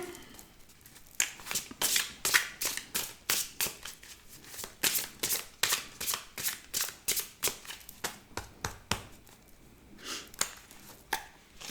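Tarot cards being cut and shuffled give a close, crisp run of rapid riffling flicks that come in quick rhythmic bursts and then ease off, with no voices over them.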